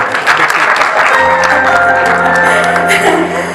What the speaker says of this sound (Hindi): जरा क्लैप करो बरकत वास्ते